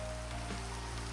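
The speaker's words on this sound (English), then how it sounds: "It's freaking raining again" Rain pours steadily in the Minecraft video game, with the My Hero Academia mod loaded, a dense, even hiss of drops on surfaces over a low constant hum, with no talking.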